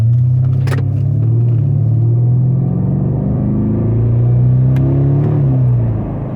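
A loud, deep car exhaust drones nearby, its pitch rising and falling as the engine revs up and settles.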